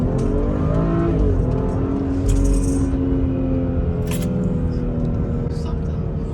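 A BMW X5 35i F15 with an MHD Stage 2+ tune in sport plus mode accelerates hard from inside the cabin, engine pitch climbing steadily as voices talk over the drone.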